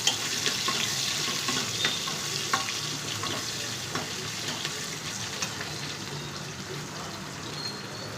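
Onion frying in oil for sambar gives a continuous soft sizzle at moderate distance, with occasional light clicks of stirring and no voices.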